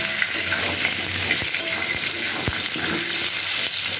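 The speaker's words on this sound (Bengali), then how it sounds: "আলু আর মূলোটাকে বেশ কিছুক্ষণ আমি একটু নাড়াচাড়া করে নিয়েছি" Potato and radish are stirred in a hot pan, sizzling steadily while a spatula scrapes and taps against the pan a few times, up close and without talk.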